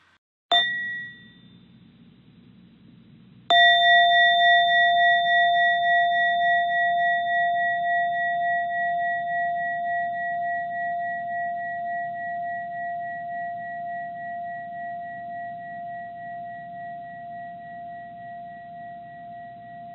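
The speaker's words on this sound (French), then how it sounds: "je vais donner 3 sons de cloche pour dire que la méditation est terminée" Meditation bell struck to close a relaxation session: a brief first strike, then a louder second strike about three seconds later that rings with a long, clear, slowly fading sustain, heard alone over a quiet low background.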